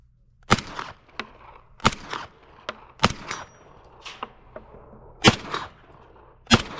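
Single gunshots at an outdoor shooting range, about eight sharp cracks spaced irregularly over several seconds, each with a short echoing tail, fairly close and loud with no talk.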